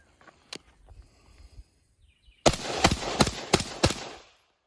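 Suppressed AR carbine with a 13.9-inch barrel, mid-length gas system and Griffin S.O.B. buffer with blue spring, firing a quick string of about five or six sharp, loud reports outdoors after a quieter lead-in with one earlier shot.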